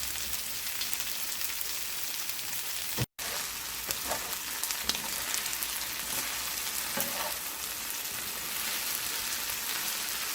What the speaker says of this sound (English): And we will let this fry uncovered.